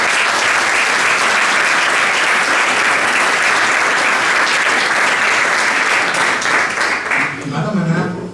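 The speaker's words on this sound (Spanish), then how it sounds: "un fort aplaudiment al Francisco Pamico" Audience at a street photography talk in Barcelona bursts into loud, sustained applause of many hands clapping together, fading near the end as a voice begins speaking.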